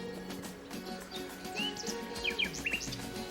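Small birds chirp and tweet in short bursts over a steady low rumble, the calls fairly close and lively, with no one talking.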